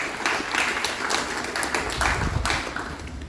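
A school graduation audience claps in a dense, steady round of applause, moderately loud and sustained with scattered sharper hand claps throughout.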